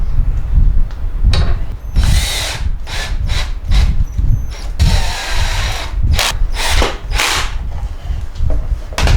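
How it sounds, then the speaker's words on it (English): A power drill drives pocket screws into a wooden frame for a convertible van bed, with loud, close whirring bursts starting and stopping repeatedly, separated by brief pauses and no speech. "I think I'll just put pocket screws up from the inside."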